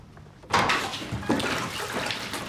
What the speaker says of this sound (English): I'm having a bath.